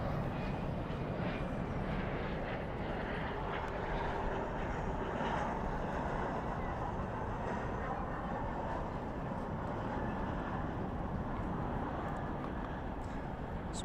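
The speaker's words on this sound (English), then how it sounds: "Spoilers up, reversers out." A jet airliner lands at night at Dallas/Fort Worth International Airport with spoilers up and thrust reversers out, giving a steady, broad roaring rush that holds evenly throughout, fairly distant and unbroken.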